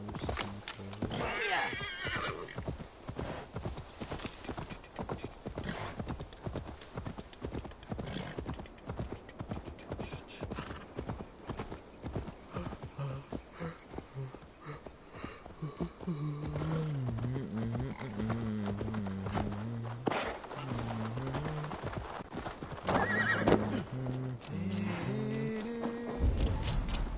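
A horse in the video game Assassin's Creed Valhalla gallops with a steady, fast clip-clop of hooves and gives loud neighs and whinnies over a constant background of game sound and music.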